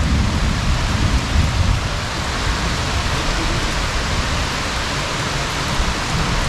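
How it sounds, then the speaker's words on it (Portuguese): Heavy tropical downpour pounding steadily near an old Tupi-Guarani village, a dense, unbroken roar of rain on surfaces with no pauses, loud and close throughout. "Aí, ó, o pé d'água que deu."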